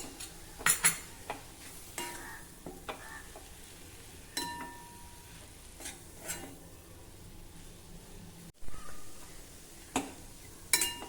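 Flour being stirred into Malabar spinach leaves in a pan, with soft scraping and occasional clinks of a spoon against metal, quiet and close, set against a faint low sizzle.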